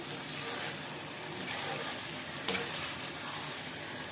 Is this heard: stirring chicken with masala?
yes